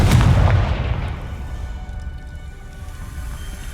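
A Confringo blasting spell exploding in the video game Hogwarts Legacy: one loud, deep boom that fades into a rumbling, crackling tail.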